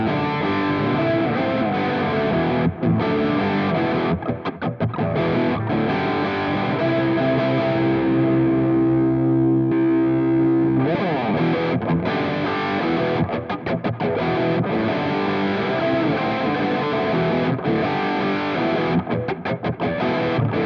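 An electric guitar played through a JHS Andy Timmons Overdrive V2 pedal gives distorted, overdriven chords and riffs up close. A sustained, ringing chord briefly fades in the middle before the choppy playing resumes.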